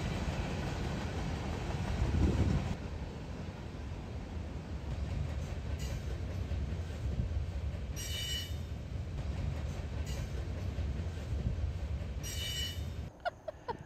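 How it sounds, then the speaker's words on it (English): Freight train passing by at a distance, a continuous rumble with clacking wheels and occasional high squeals, steady for its whole length and alone without talk. "I actually will pull over and watch a train go by"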